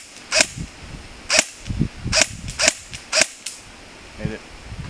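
Airsoft gun firing BBs, about six sharp cracking shots spaced roughly a second apart, fairly close and loud, with faint talk underneath between shots.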